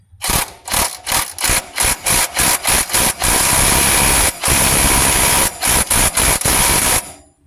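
Impact wrench on a 1995–2001 Ford Ranger 2.5 timing belt job, hammering a bolt tight in a rapid series of loud, close bursts, with one long sustained run in the middle before more short rattling pulses.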